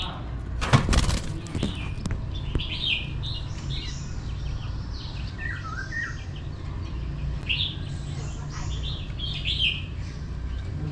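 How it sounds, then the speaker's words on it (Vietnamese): A small partridge-like bird kept in a cage gives short chirping calls, repeated at intervals over a constant outdoor background in the northwest Vietnam hills. A few sharp cracks come near the start, and a voice speaks. "Nó giống như kiểu con đa đa ấy, gọi là đa đa mini anh em ơi"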